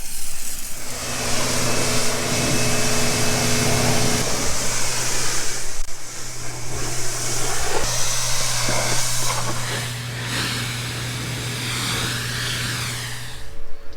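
A water spray rinses chemical cleaner off white car paint during a rust overspray removal detail, producing a loud, steady close hiss with a constant engine-like hum underneath and no speech.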